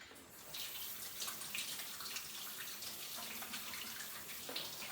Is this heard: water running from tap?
yes